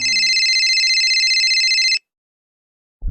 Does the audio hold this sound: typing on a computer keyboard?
no